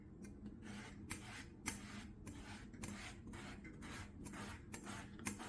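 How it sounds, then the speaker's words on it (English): A lemon rasped against the grater side of a classic zester, giving a run of soft, rhythmic scraping strokes with brief pauses between them, close up and fairly quiet, with no talking. "Turn your lemon gradually as it takes the skin off."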